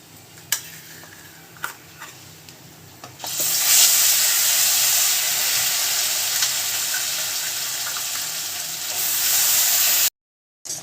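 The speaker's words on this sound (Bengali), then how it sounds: "আমাদের তেল গরম হয়ে গেছে গোটা গরম মশলাটা ফোড়নে দিয়ে দেবো তেজপাতা এলাচ দারচিনি" Whole garam masala of bay leaf, cardamom and cinnamon dropped into hot oil, bursting into a loud, steady sizzle after a few light clinks, then cutting off abruptly near the end.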